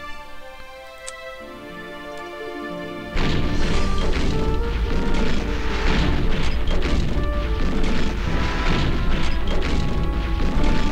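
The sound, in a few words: artillery bombardment in a World War II strategy video game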